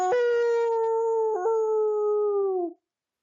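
A person imitates a dog howl with one long, loud, sustained vocal tone that wavers briefly in pitch midway and then fades out at the end.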